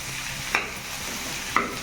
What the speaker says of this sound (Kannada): ಕ್ಯಾಪ್ಸಿಕಮ್ ಹಾಕಿ ಕ್ಲೀನಾಗಿ ತಿರುಗಿಸಿ 1-2 ನಿಮಿಷ ನೀಟಾಗಿ ಈ ಥರ ತಿರುಗಿಸ್ಬಿಟ್ಟು 1 ನಿಮಿಷ ಹಾಗೆ ಬೇಯಲಿ.